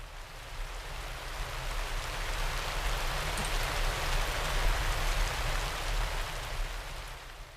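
Steady rain weather effect from the card game KARDS, a dense even hiss of falling drops with a low rumble underneath, continuous and moderately loud throughout with no talk.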